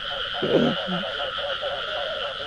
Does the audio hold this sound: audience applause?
no